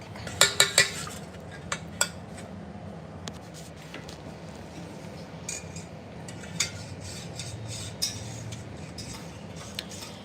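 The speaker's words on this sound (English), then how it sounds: "we are going to whisk this wax" Melted candle wax is whisked in one direction, producing light, irregular metallic clinks and taps against a container, a few sharper hits early on, over a low, quiet background hum.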